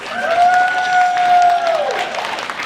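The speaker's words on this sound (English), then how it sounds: "So let's give a round of applause for all four of our judges." An audience at the Game On Expo 2024 costume contest applauds the judges with steady, close clapping, and a long sustained whoop rides over it before fading.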